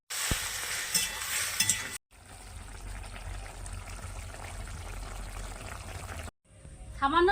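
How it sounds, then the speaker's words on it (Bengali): Ash gourd greens hitting hot oil with a spice tempering of dried chillies and five-spice, giving a loud sustained sizzle and frying hiss with a few brief breaks and stirring clatter. "এবারে চাল কুমড়ো শাকটা ফোড়ন দিয়ে দিচ্ছি।"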